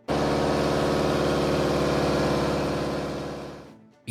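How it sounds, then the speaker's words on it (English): Commer truck with a supercharged engine idling, its supercharger damper giving a steady ringing, rhythmic clatter that runs loud and even for several seconds before cutting off abruptly. "a ringing clatter at idle due to the supercharger damper"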